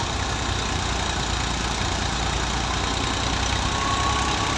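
An Al Ghazi 2005 model tractor runs a wheat thresher, its engine droning steadily and loud throughout with a rough, knocking low rumble and no pauses.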